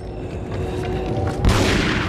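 Gunfire from the video game Resident Evil 4, heard as a dense, loud burst of booming shots that erupts suddenly midway and keeps rumbling over a steady game background.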